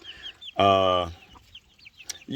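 Chickens in a backyard coop give a loud, close squawk among softer clucks and chirps, with faint bird calls scattered around it.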